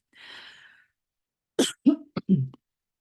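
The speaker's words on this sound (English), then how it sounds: "Excuse all the coughing" A faint breathy sound, then a quick cluster of three or four close, sharp coughs.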